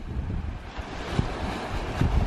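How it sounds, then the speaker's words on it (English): Waves breaking against a lake shore, with steady wind buffeting the microphone and a few heavier surges of water standing out above the continuous roar. "look at those waves. They're crashing into the shore."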